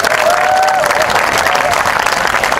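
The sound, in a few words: audience applause after final performance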